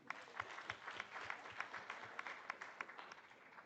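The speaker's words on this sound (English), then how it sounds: "A round of applause, please, for these winners." Audience applause for moot court competition winners at an arbitration week event in Nairobi, a steady, fairly faint patter of many hands clapping with scattered sharper claps, continuous throughout.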